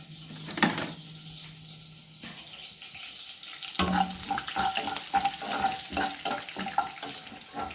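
Green chillies drop into a hot pan and start to sizzle partway through, after quieter kitchen clatter. The sizzle becomes a steady crackling fry, broken by stirring scrapes, close and fairly loud.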